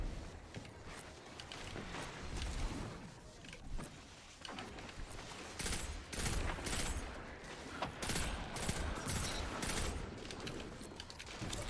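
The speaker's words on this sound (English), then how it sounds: "Thing sounds like a scout rifle." Rapid scout rifle gunfire in Destiny 2 during a relic match, sharp repeated shots in bursts under dense game effects and explosions, loud and continuous throughout.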